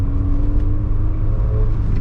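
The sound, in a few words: car engine running while driving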